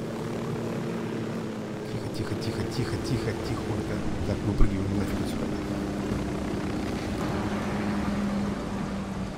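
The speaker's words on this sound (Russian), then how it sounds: "давайте где-нибудь вот здесь приземлимся. Главное не разбить вертолет," Helicopter rotor and engine drone from the video game Ghost Recon Wildlands during a landing, a steady loud mechanical hum throughout with voices talking over it.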